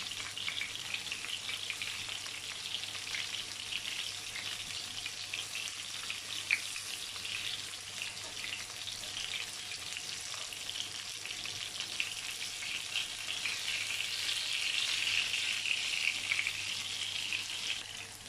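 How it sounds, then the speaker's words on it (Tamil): Mushrooms fry in a pan for restaurant-style mushroom tikka masala, giving a steady, close sizzle that holds throughout and grows slightly louder near the end, with no voices. "இப்போ இதை வந்து கொஞ்சம் ஃப்ரை ஆகட்டும்"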